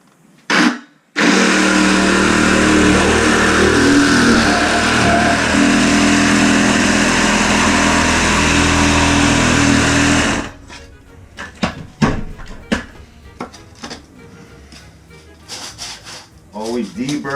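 A power saw cuts through a plastic toilet drain pipe flush with a concrete floor, roaring loudly and steadily for about nine seconds. It then stops, leaving scattered clunks, scrapes and brief talk.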